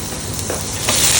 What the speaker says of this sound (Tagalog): So nagisa na ako dyan ng onion at garlic